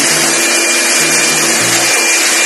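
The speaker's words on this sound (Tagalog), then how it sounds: "Ibo-blower na po siya." An air blower cleaning dust from a chiller during maintenance gives a loud, continuous high-pitched rushing whine with a steady tonal hum, and a few low thumps or bursts of pressure are heard briefly near the middle.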